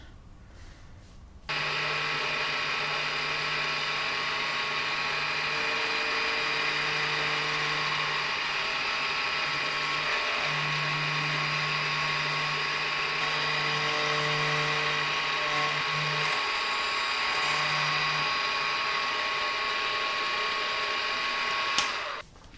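A brass watch case being milled for its strap lugs, with a continuous high-pitched whine and grinding hiss from the cutter, and a lower hum that drops in and out as the cut goes on.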